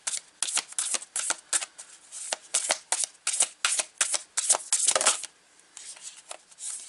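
Rose Oracle cards being shuffled by hand in a steady run of crisp riffling bursts, close and fairly loud, with brief pauses between the shuffles and no talking.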